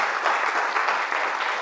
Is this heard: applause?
yes